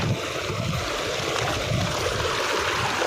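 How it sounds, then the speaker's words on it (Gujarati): Rainwater rushing across flooded farm fields near Kaliyanpur after heavy rain, a steady, close, continuous flow with low churning gurgles and no voices. "આ તમે જોઈ શકો છો મિત્રો કેવું પાણી જઈ રહ્યું છે"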